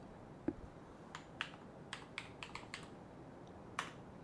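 Quiet, sparse keystrokes on a computer keyboard as a chat command is typed during a flight simulation live stream, with about a dozen separate clicks spread irregularly over a few seconds and no talk.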